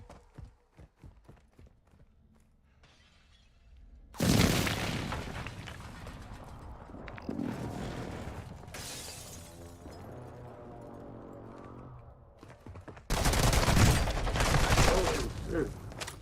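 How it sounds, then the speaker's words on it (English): Hostile airstrike hits in a video game battle royale land as heavy, loud blasts mixed with rapid gunfire, in two big bursts separated by quieter rumbling and scattered shots. "Hostile airstrike incoming."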